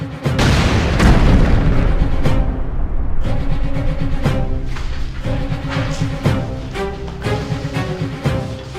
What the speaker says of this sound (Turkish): Bomba bu! Kaçın!